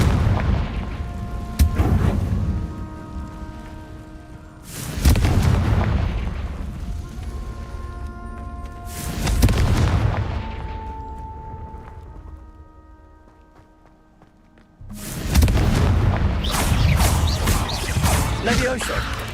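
Four booming Confringo spell blasts in Hogwarts Legacy, each a loud burst that rings out and fades over a few seconds, spaced apart with quieter gaps. A voice shouts the spell name during the clip.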